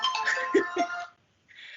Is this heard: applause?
no